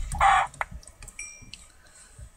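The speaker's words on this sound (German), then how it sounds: "Wo war dieses dumme Huhn?" A Minecraft chicken gives a short, close cluck with a few clipped clucking blips after it, sounding alone with no talk over it.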